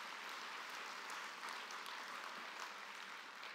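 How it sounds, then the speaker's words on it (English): A seated audience gives a round of applause for conference panelists, even continuous clapping heard fairly far off and quiet throughout. "could you please give them a round of applause"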